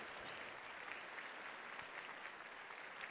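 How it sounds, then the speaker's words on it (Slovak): An audience applauds at a business talk event as a speaker is welcomed onto the stage, a dense, even wash of clapping held steady throughout, moderately distant and without speech. "Poprosím potlesk."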